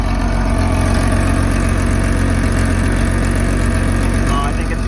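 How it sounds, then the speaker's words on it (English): A 1965 Ford Econoline six-cylinder engine idles steadily and loudly close by, its exhaust chuffing and rasping through a leak where the muffler has let go. The rough, even idle runs continuously from start to end. "It's got an exhaust leak that wasn't there when I parked it."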